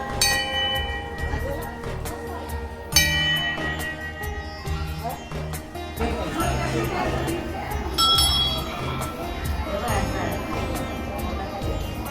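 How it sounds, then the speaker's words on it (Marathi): A small bell rings in repeated bright dings over a busy mix of music and voices, the rings clustering in short bursts. "किमया घंटी कशी वाजवायची"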